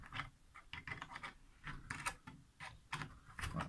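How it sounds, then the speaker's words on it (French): A clamp being tightened onto wooden boards while building a bird feeder, a series of close, quiet ratcheting clicks and creaks in quick uneven bursts. "je viens serrer avec la pince"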